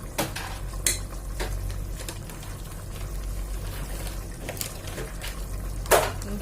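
A spoon mixes spices and red pepper powder into rice in a cooking pot, giving several sharp metallic clinks and scrapes spaced apart over a low, steady background hum.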